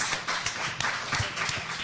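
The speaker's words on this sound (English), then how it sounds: "Give a round of applause." Audience applause greeting a performer coming onto the stage at a Living Gallery event, a dense, steady patter of many clapping hands held at moderate loudness for the full stretch.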